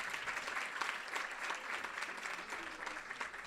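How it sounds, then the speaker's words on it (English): An audience at an awards celebration claps steadily and fairly loudly throughout, a dense wash of many hands with no talking. "Please join me giving an applause of rounds for these 21 Mujeres Destacadas."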